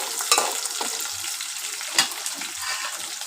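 Onions and mint leaves frying red in a pan for chicken curry, a steady close sizzle with a couple of sharper stirring scrapes, no talking.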